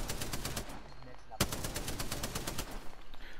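Rapid automatic gunfire in the shooter game Apex Legends: a dense, steady stream of close shots with one sharper, louder crack near the middle, continuing without pause.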